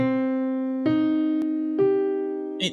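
A held chord rings out, then a note shifts twice, giving a mournful, melancholy color; a small click near the end.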